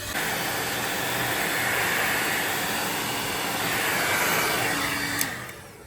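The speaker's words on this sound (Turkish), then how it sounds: "Şimdi saç kurutma makinesiyle bu yaydığımız köpük olana kadar kurutuyoruz." A hair dryer blows steadily while drying spread foam for a handmade woven straw slipper, a loud continuous whoosh that cuts off abruptly near the end.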